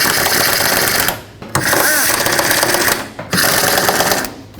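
A power tool buzzes in three loud, close bursts of about a second each as 10mm bolts on the fan shroud of a 2003-2021 Chevrolet Express van are snugged down, with brief pauses between bursts.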